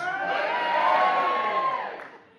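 A theatre crowd at the Theatre Royal, Waterford, lets out a loud, sustained collective cheer and shout that swells, holds for about two seconds, then fades.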